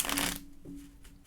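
A quick burst of tarot cards being shuffled close by, lasting under half a second, then quiet room tone with a faint steady hum.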